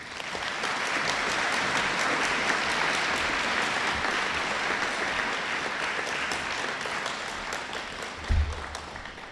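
Audience applause at a school awards presentation for students, a sustained, dense clapping from a large crowd that holds steady throughout and fades slightly near the end, with a brief thump.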